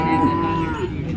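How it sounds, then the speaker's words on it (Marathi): A single cow on a farm gives one short, tonal moo lasting about a second, close and clear, with faint background noise around it. "शेतकरी एक समोर गाय आहे"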